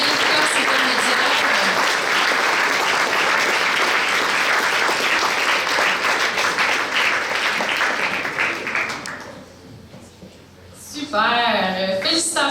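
Loud, sustained applause from a crowd at a regional science fair awards ceremony in Québec for the intermediate class medallists, lasting about nine seconds before fading, then a speaker resumes talking.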